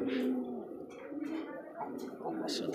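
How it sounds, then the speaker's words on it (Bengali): A pigeon coos softly and close by in a loft, with a few low, throaty, rolling calls mixed with faint chirps and background noise. "তো আমরা একটু কথা কম বলি, কবুতরটা ডাক দেখি।"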